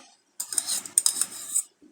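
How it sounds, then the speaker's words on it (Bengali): A spoon stirring salt and sugar into lemon water, a brief burst of quick metallic clinks and scrapes against a glass, close and clear, with no talk. "একটু মিক্স করে নিচ্ছি।"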